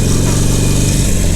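Motorcycle engine held at a loud, steady drone as the throttle is slowly rolled on while pulling away in first gear, close and continuous with no clear rise in pitch.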